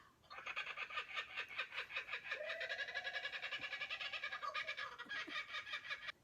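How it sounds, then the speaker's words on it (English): Raucous, rapidly pulsing kookaburra calls rise into a loud, cackling chorus that sounds almost like laughter, continuing for several seconds before cutting off. "The call of the kookaburra."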